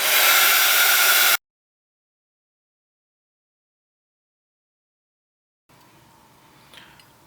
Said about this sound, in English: start the heat tool before you move across, and then start at a higher distance